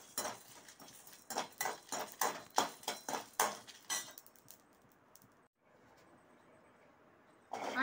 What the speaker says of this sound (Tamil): வரமிளகாய் போட்டு வறுத்துக்கலாங்க